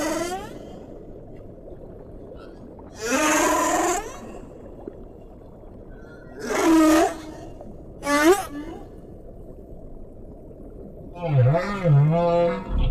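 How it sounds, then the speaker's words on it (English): Humpback whale song underwater, a male singing long moaning and rising-falling calls in separate phrases over a constant low ocean hiss, with a lower groaning unit near the end. "The male humpback may sing for hours or even days."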